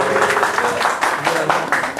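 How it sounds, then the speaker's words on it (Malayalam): An audience at a magic show in a royal palace in Dubai claps in a steady, dense wash of applause that lasts a couple of seconds. "കൈയടിക്കും."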